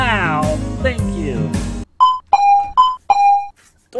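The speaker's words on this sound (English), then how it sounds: "Doorbell goes off" Doorbell chimes in the video game At Home Alone: four short, clear ding tones ring in quick succession after a burst of louder game sound, close and distinct.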